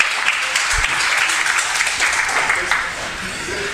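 Wrestling crowd at a main-event match cheering the wrestlers on, a dense, loud wash of applause and shouting that stays steady for a few seconds before easing slightly.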